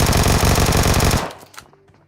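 Vector submachine gun firing in the mobile shooter BGMI, a loud, rapid burst of automatic shots for over a second that cuts off sharply, followed by faint clinks and a fading tail.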